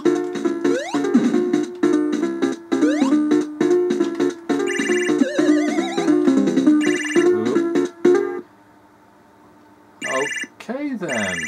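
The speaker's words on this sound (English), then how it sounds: "Why is there a phone ringing?" A chiptune phone ring trills in the PC Engine game Kato chan and Ken chan, layered with jaunty game music and electronic effects, then sounding alone in short bursts near the end.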